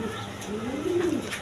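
A pair of pigeons, a bonded male and female offered for sale, gives a single low rising coo, close by and fairly quiet against faint background noise.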